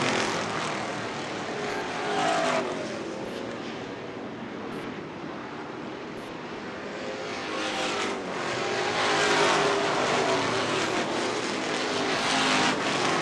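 Race cars lap a short track in a loud, continuous wash of engine roar that swells and fades as cars pass, heard at some distance with no talking.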